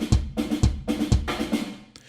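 Unprocessed EastWest Gypsy percussion sample: a few loose hand-drum and frame-drum hits with deep thumps and jangly upper ring, played in an uneven, lively rhythm, close and clean.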